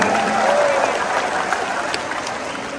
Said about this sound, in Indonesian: Beri tepuk tangan untuk para relawan yang bekerja di Banten.